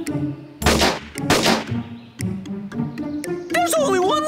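Rifle shots fired at a target in a cartoon shooting game, a few sharp cracks spaced across the moment, loud and close, with animated character voices chattering between and after them.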